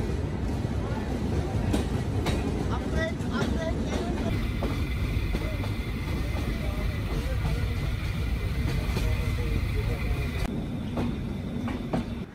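The Benapole Express train running on its rails near Poradah and Kushtia, a loud, continuous rumble with rattling wheel clatter and metallic squeals, heard from on board with faint voices underneath.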